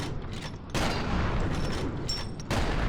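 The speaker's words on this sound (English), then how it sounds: "Grenade out!" A grenade blast and gunfire in F.E.A.R. make a dense, continuous roar of noise, with louder surges near the start and end and no talking.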